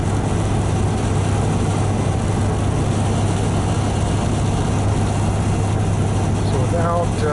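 A 2010 RAM 2500 truck climbing a hill on cruise control, its engine a steady low drone with road and wind roar throughout, loud and continuous, with someone talking over it.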